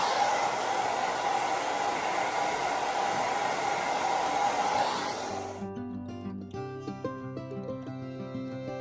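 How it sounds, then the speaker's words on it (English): A hair dryer blows steady, loud, close airflow while rough-drying hair and tape-in extensions without a brush, then cuts off about halfway through as background music carries on. "So I'm gonna blow dry my hair."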